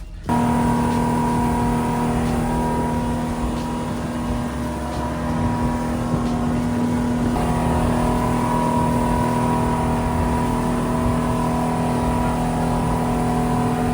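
A motorboat engine drones steadily on the sea near Thailand's Phi Phi Islands, a loud constant hum that rises slightly partway through, with no talking.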